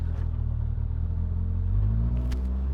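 Steady low rumble of a 2025 Polaris RZR Pro R side-by-side engine idling and pulling gently in rock crawl mode, a deep continuous drone with a slight rise near the end, close and alone.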